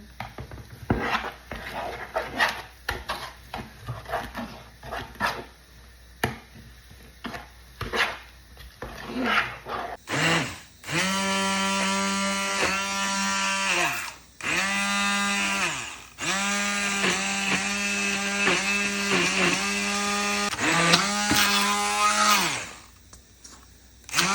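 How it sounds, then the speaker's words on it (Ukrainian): A blender whirs in loud bursts with rising and falling pitch, blending cottage cheese and sour cream for a casserole, starting after some clattering and knocking, then stopping and restarting several times. "а потім переб'ємо блендером."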